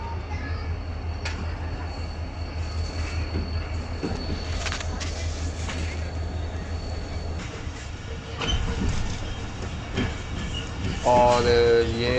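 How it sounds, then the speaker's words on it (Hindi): The Shalimar Express pulls out of Rohri station platform with a deep, continuous rumble and clatter of wheels and carriages, rising near the end as a loud, tonal horn sounds; voices can be heard faintly in the background. "अब शालीमार एक्सप्रेस 82 स्टारों के हॉर्न के साथ ही रोहड़ी के प्लेटफॉर्म नंबर"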